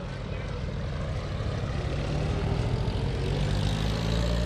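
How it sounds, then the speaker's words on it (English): Propeller engine of an aerobatic airplane at the 2016 Greenwood Lake Airshow, carrying a wingwalker, droning loud and steady throughout with a broad rumble and faint talk mixed in. "Once she gives the signal to Marcus Paine, he's going to throw on the smoke and apply the power."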